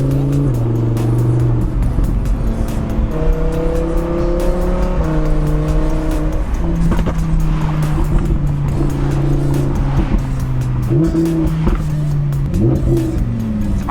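An Audi R8 with a rear-mounted V10 engine in race mode, revving loud and close through stepped rises in pitch toward high RPM, a continuous strong engine roar with brief gear-change dips.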